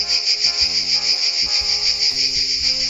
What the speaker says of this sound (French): Et les cigales qui font la fête au soleil.